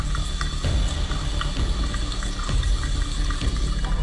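Water pours down steadily and close by, a continuous splashing rush with small gurgles and knocks running through it.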